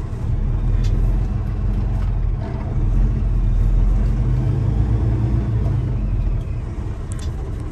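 A truck rolls through town, heard as a steady, loud low engine rumble and road drone from inside the cab, continuous throughout with no talking.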